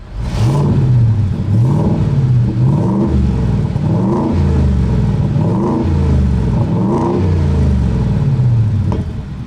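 A 2023 Ford Raptor R pickup revs in its quiet exhaust mode, giving about six loud, close, rhythmic rises and falls of engine pitch with no talk.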